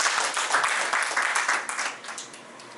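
Audience applauding youngsters at an AI talk on autocomplete and word processing, a steady wash of clapping from a roomful of listeners that tapers off slightly toward the end.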